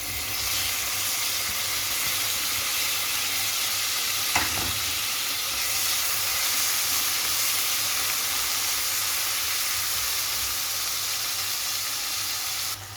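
Garlic and tomato sautéing in a hot pan for a zucchini and shrimp dish, a steady close sizzle and hiss with a brief stir or clatter partway through, continuing alone without talk.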